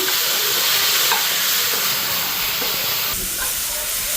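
Dry red chillies sizzle in hot oil with salt and turmeric, a loud, continuous close-up hiss of tempering with a faint high whine over it, with no voices.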